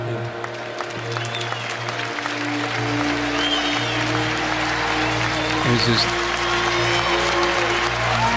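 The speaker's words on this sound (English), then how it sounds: "Clapping and chanting saying Tommy." Ohio State fans in a football stadium clap and chant steadily as a crowd wash in the background, with a broadcaster's voice talking over it and a low steady hum beneath.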